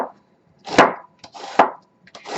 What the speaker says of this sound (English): And I'll keep chopping the onion.